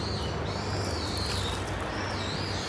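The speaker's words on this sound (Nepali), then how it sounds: "कस्तो चराहरूको आवाज आइरहेछ क्या" Birds chirping in a park among cherry blossoms, repeated high whistling calls over a constant background hum, moderately faint and without speech.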